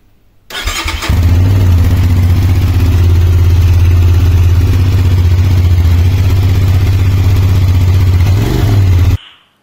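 An RKS RS550 motorcycle engine cranks and catches, then settles into a loud, steady, deep idle that runs close by for several seconds before cutting off.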